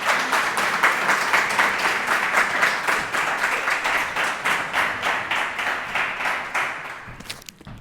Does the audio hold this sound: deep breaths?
no